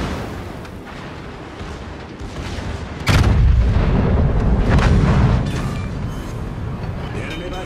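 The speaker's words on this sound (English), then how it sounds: "The enemy battleship destroyed." A loud close boom erupts as an enemy battleship is destroyed in the naval game World of Warships, followed by sustained rumbling blast noise over earlier gunfire-like thuds; a voice speaks during it.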